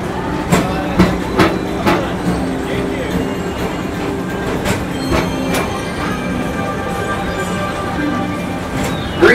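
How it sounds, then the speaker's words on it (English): A Tomorrowland PeopleMover ride train at Magic Kingdom rolls along its track, a steady low rumble with repeated clicking wheel joints and squeaks, heard from on board under faint background voices. "Welcome aboard the PeopleMover, presented by Enterprise"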